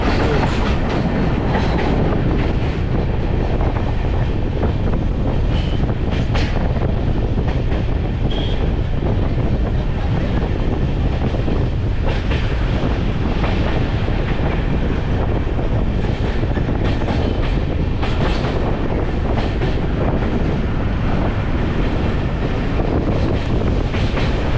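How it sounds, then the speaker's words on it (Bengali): A new train crossing the Farakka bridge, heard as a loud, continuous rumble and rattle with steady clickety-clack from the wheels and wind buffeting throughout. "এবার আমরা ফারাক্কা ব্রিজের উপর দিয়ে যাব।"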